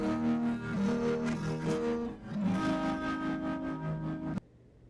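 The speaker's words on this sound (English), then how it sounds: "Let's see some distortion." A heavily distorted, buzzy voice with harsh harmonic tones that wavers in pitch, then cuts off abruptly into near silence.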